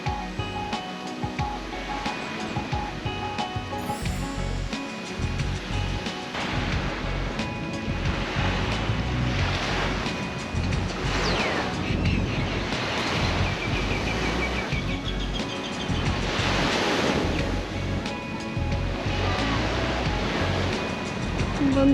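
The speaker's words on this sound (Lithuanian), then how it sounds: "Atvykom vieną paplūdimį aplankyti." Ocean waves roll in and break on a beach on Koh Samui island in Thailand, a continuous loud surf wash with repeated swells, and wind rushing across the microphone.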